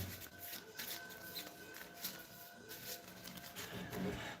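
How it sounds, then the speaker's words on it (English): A deck of game cards being shuffled during a Kinfire Delve tabletop game, faint continuous riffling and card rustling up close, with no talk. "I'm going to pre-shuffle these because on my next turn I'm going to draw 7."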